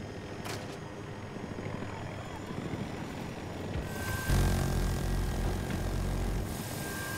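A helicopter in the video game Battlefield 2042 drones with a rough, steady engine and rotor roar that grows louder and fuller about halfway through, with no talk.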